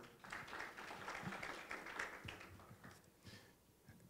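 Audience applause at a Uganda Canadian business expo welcome in Toronto, a steady crowd clapping that holds fairly even, then thins slightly toward the end, with no voices over it.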